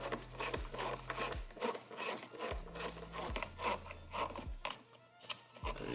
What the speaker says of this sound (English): we threw it on a 1/4 inch extension on a 1/4 inch ratchet